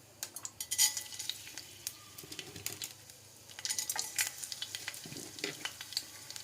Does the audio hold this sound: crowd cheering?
no